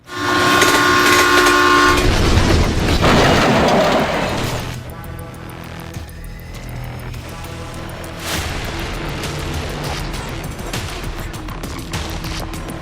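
The Chandigarh–Dibrugarh Express rumbles loudly along the rails in Gonda district, Uttar Pradesh, with a blaring horn at the start, then a steady rolling clatter continues as it passes.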